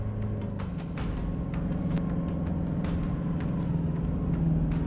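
A car engine drones steadily as the vehicle labors across sand dunes, struggling for grip, a continuous low rumble close by with no voices.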